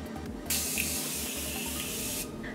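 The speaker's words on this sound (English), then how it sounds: "So I'm just spraying my face with this." A close, hissing spray of fine face mist runs steadily for about two seconds, loud and continuous against a quiet background.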